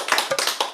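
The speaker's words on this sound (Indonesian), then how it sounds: "Tepuk tangan dong buat Tuhan Yesus." A church congregation claps their hands during a Christmas service, a brief run of quick, evenly spaced claps heard close and moderately loud.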